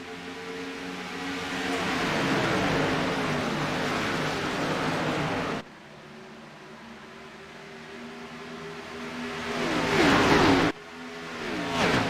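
Race cars roar into the green-flag start at Kansas in the ANZCAR Abruzzi Cup Series, loud engines revving and whining as they rise in pitch, with sudden cuts and a fresh surge of engine noise later.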